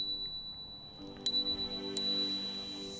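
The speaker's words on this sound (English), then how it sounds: "Just pull back the black lever and a built-in spring will ding the bell for you." The built-in spring bell on a Hiboy S2 Pro electric scooter gives two bright, ringing dings about a second apart, each lingering briefly over a quiet background.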